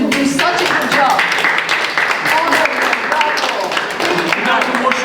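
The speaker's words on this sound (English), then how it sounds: "Big hand of applause for them to do such a good job." Applause from a group at an Armenian history and culture session during a cooking demonstration, a fairly loud burst of clapping running the whole stretch with voices mingled underneath.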